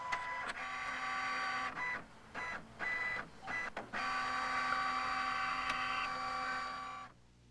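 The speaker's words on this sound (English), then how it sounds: "Within moments, your to-do list will arrive out of your printer." A home computer printer prints a document: a steady mechanical whirring and buzzing of the print head, broken by short pauses and clicks, then stopping near the end.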